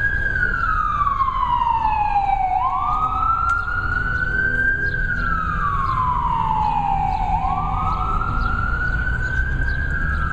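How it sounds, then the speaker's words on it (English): A wailing ambulance siren sweeps slowly up and down in long cycles as it passes a veterans rally outdoors, loud and steady over low traffic rumble with no voices. "we'll wait for this ambulance to go by"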